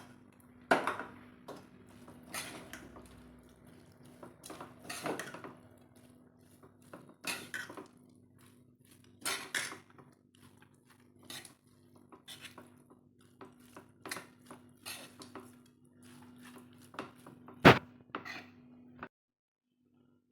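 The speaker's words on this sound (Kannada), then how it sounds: "ನಾನೀಗ ಅನ್ನವನ್ನು ಹಾಕ್ಕೊಳ್ತಾ ಇದ್ದೀನಿ. ಇದನ್ನು ಕಲಿಸ್ಕೊಳ್ಳೋಣ." Cooked rice mixed with a spoon in a pan for chitranna: intermittent soft scrapes and taps of the spoon against the pan, sparse and close but quiet, with a steady low hum beneath and no talk.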